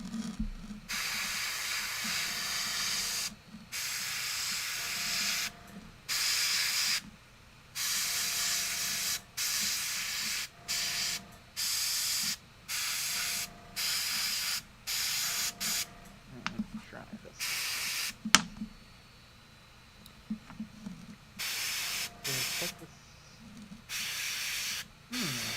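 An airbrush sprays paint onto Warhammer 40k Kill Team Tempestus Scions miniatures in repeated hissing bursts of a few seconds each, separated by short pauses, with a faint background hum.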